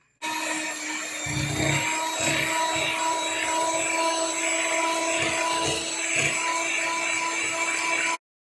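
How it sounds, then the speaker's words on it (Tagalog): An electric mixer runs steadily, blending cream cheese with milk and all-purpose cream. It gives a continuous, close motor whir with a tonal hum and occasional low bumps, and no one speaks. "Kung meron kayong electric mixer ay pwede kayong gumamit."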